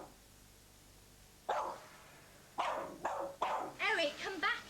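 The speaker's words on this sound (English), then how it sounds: "The dog won't harm you." A dog barks in a series of sharp barks that grow more frequent toward the end, close and fairly loud, after a quieter stretch of room tone.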